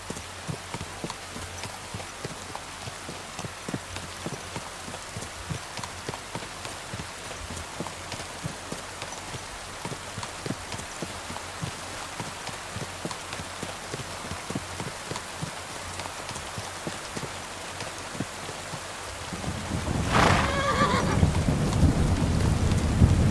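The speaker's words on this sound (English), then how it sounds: "Maybe this rain is for the best" Rain falls steadily in the video game Kingdom Come Deliverance 2, a dense constant patter, and near the end a loud rumbling thunderclap breaks in and swells over the downpour.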